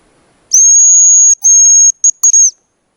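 A hazel grouse decoy whistle, tried out on a snowy hunt, gives a thin, high, steady note held about a second, then a second long note followed by a few short clipped chirps, loud and close in otherwise quiet air.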